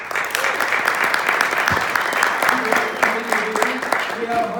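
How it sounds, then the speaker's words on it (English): Conference audience clapping in a hall, a steady spatter of applause with a few louder individual claps and brief voices mixed in near the end. "Let's give her a round of applause."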